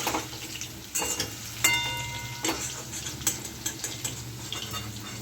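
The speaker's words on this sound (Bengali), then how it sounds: "ওই তেলে মাছের তেলেতেই ভাজা করছি" Oil left from frying katla fish sizzles steadily in a pan while a metal utensil scrapes and clinks against it several times, close by.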